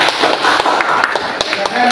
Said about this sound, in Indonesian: Kita kasih tepuk tangan untuk kelompok yang ini sudah melakukan.